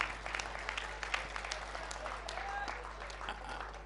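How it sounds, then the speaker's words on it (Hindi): Faint, distant audience applause at a Hindi poetry recital, a soft continuous patter of clapping over a low electrical hum, with voices mixed in. "एक बार तालियां बजाइए"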